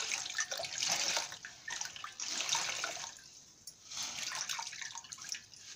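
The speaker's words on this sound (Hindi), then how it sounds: "इस तरह से इसको निचोड़ेंगे।" Wet cloth soaked in hot water to set its dye is wrung out by hand, and water splashes and streams back into a basin in several bursts, loud and close, with short pauses between.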